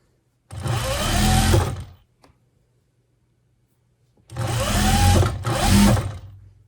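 A sewing machine stitches a half-inch seam in a loose-weave wool cloche hat with a small stitch, whirring in two fast, steady bursts, the second briefly interrupted, with near silence between them.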